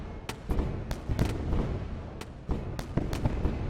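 Gunfire in the space game Wayward Terran Frontier: Zero Falls as a ship shoots something open, sharp irregular cracks and bursts, roughly a dozen shots scattered over a few seconds with no talk.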